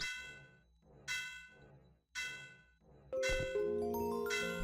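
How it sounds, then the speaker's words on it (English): Clock bell in the game EONIA ringing in three bright, evenly spaced metallic clangs, each fading out, followed by a denser, louder burst of overlapping chimes and tones. "Stop the clock bell, approach the clock bell, and press E to turn it off."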